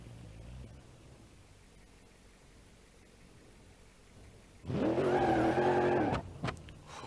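A drag car on 15x12 drag wheels and slicks in BeamNG.drive launches hard after a quiet idle, a loud harmonic engine roar lasting over a second with wheel hop, then cutting off abruptly into a few sharp bursts.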